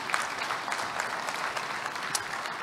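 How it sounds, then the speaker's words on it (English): An audience applauds steadily in a conference hall as a government minister for food and agriculture comes up to speak, the clapping dense and even throughout with no voices over it. "Let's give the minister a round of applause as he comes up."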